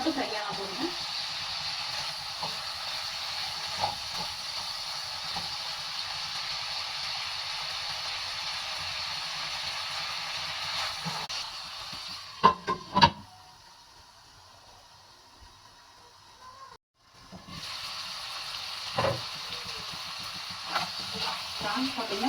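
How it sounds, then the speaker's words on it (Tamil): Prawns sizzling in butter and garlic in a pan, a steady close frying hiss with faint stirring clicks, briefly dropping quiet midway before the sizzle resumes. "இப்போ ஃப்ரை பண்ணி வச்சிருக்கிற ப்ரான்ஸை இதில் சேர்த்துக்கலாங்க. இது ஒரு 2 மினிட்ஸ் மட்டும் ஃப்ரை ஆனால் போதுங்க."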